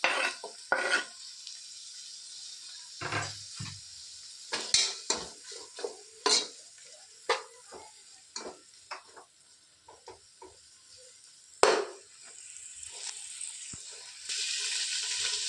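Tomatoes go into a hot pan for Mangalore-style chicken sukka and are stirred, with irregular scrapes and clinks of a utensil over a faint background sizzle.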